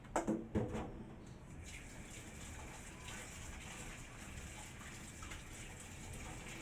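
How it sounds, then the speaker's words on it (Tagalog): Water runs and splashes steadily from a tap rinsing radish and bitter melon, with a few clattering knocks at the start and no talking. "ugasan ko ng tubig to"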